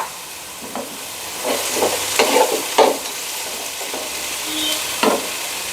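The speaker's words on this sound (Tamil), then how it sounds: "கட் பண்ணி வச்சுருக்கிற பீட்ரூட்டு, அதுக்கப்புறம் கேரட்டு, அதில் கொஞ்சம் க்ரீன் பீஸ் சேர்த்து அதையும் வதக்கி விட்டுடலாம்" Beetroot, carrot and green peas sauté in a hot pan with a soft continuous sizzle, broken by scraping stirs of a spoon at irregular intervals, close and moderately quiet.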